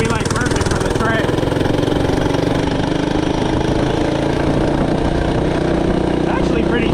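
An FRP GMB 100 retro mini bike's small engine runs steadily and loudly up close, a continuous buzzing drone with a busy, rattly mechanical texture throughout.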